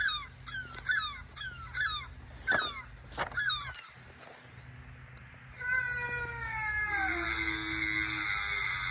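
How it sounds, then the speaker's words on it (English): A cat gives a run of short, rapid mewing calls followed by a longer, drawn-out wavering yowl, fairly close, over faint background noise with no talking. "We even have a cat."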